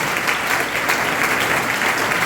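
A church congregation bursts into steady, dense applause acclaiming the Lord, loud and close, a continuous wash of clapping with no voices standing out.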